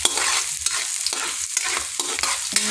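Chopped onion hits hot cooking oil in a pan for vegetable lumpia and is stirred, giving a steady close sizzle broken by repeated scraping strokes of the spoon.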